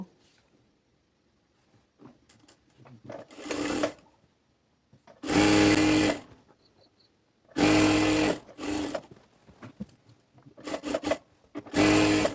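A sewing machine double-stitches a salwar hem in several loud bursts of whirring stitching, separated by short pauses and quiet handling of fabric.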